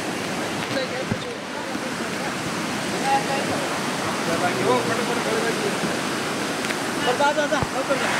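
A steady rushing roar of falling water runs throughout, dense and unbroken, with occasional faint sounds over it, from a waterfall in the misty Kundalika valley.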